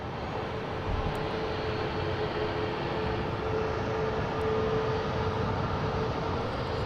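A JetBlue Airbus A321 at Boston Logan gives off a steady, broadband jet rumble with a faint whine running through it, heard alone and without talk.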